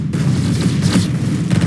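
Sniper rifle fire in the Roblox game Arsenal, heard as loud booming game gunshots in a short, dense burst of sound with no voices over it.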